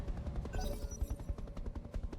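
Rapid mech weapon fire in a BattleTech-style mercenary video game battle against a helicopter, a dense continuous stream of booming shots and rattling bursts, loud and close, with no talk.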